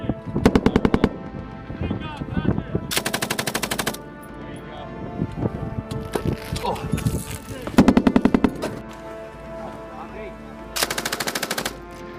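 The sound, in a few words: gunfire from a firing weapon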